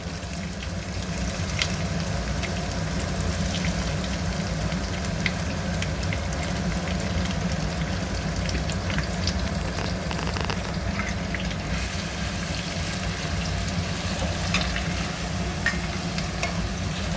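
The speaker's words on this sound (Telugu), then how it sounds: "ఇవి ఆనియన్స్ నేను కొంచెం సాల్ట్ వేస్తున్నా, దానికి కలర్ కొంచెం మంచిగా ఫ్రై అవుతాయని" Sliced onions fry in hot oil with a pinch of salt, a steady dense sizzle and crackle holding at even loudness throughout, with occasional stirring clicks and no voices.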